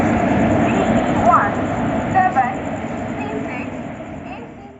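Railway ambience at Shoranur Junction station in Kerala, beside an Indian Railways coach on the Mangalore–Trivandrum Express: a steady broadband rumble of a train with brief squeals and clatter, loud and continuous, with voices talking over it.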